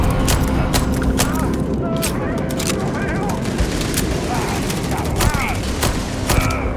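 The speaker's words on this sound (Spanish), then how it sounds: "¿Quién está atacando con láser?" Laser weapon fire in the video game Starfield, a dense run of rapid zapping shots amid loud combat noise, with a voice talking over it throughout.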